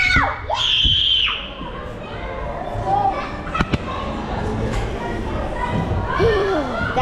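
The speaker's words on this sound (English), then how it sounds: "That guy is screaming so well." Children shout and scream across a busy indoor playground at a very large McDonald's, with crowd chatter throughout and one high, drawn-out scream standing out early.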